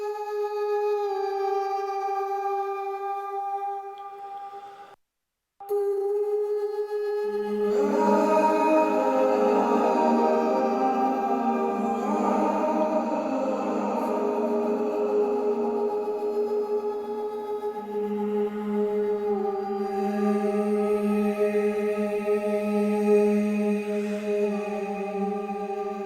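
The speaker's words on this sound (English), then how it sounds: "But here I'll play these vocals that are part of the build section." Ambient vocals from a build section hold long, sustained tones processed with EQ, compression, tape delay and a big hall reverb, swelling into a fuller, washier layer after a brief dropout and staying steady and lush.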